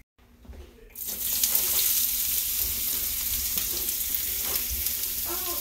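Chopped meat dropped into hot oil in a home kitchen pan for lasagna, a quiet start giving way to a loud, steady close sizzle that holds to the end.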